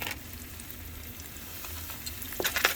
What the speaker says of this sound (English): You're going to fry until they're golden brown, about 3 or 4 minutes each side.